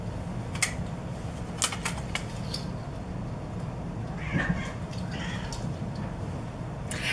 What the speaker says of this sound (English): If you hear cats running around in the background,